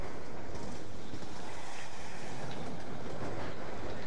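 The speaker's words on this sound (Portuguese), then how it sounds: "o trem vai passar" A train rushing past in a video game, a loud dense rumbling roar that holds steady throughout.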